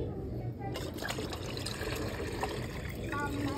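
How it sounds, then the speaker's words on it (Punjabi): Water pours and trickles steadily, likely a supply for pigeons near a brick coop, with voices and outdoor clatter around it. "ਮੈਂ ਪਾਣੀ ਪਾਉਣਾ, ਪਾਣੀ ਪੂਣੀ ਪਾ ਦਈਏ ਬਾਈ"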